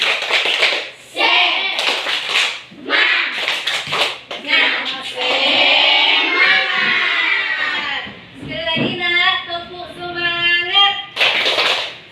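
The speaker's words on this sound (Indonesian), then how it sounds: "Tepuk semangat" A class of children performs a rhythmic 'tepuk semangat' clapping chant, with loud, sharp clap bursts in patterned groups between sung and shouted chanting, all close and energetic.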